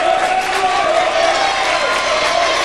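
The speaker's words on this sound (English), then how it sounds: "Our fans are joining in the cheer." Basketball fans in a high school gym crowd cheering and applauding during a boys varsity game, a steady, dense wash of crowd noise with a sustained chant-like tone throughout.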